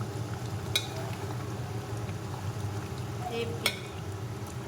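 Meat frying in a pan with stirring, a quiet steady sizzle low in the background, broken by two sharp clinks of a utensil against the pan.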